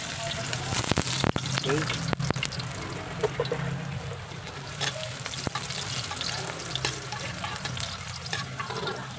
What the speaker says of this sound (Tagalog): ilagay na natin itong bawang natin